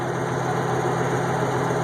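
A tractor engine runs steadily just after starting, a constant loud idling drone with a high-pitched whine on top and no pauses.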